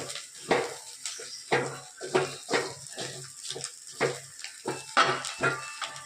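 Food sizzles in a pan during home lunch cooking while it is stirred with a utensil, giving a run of rhythmic scraping and clinking strokes about twice a second over a soft frying hiss.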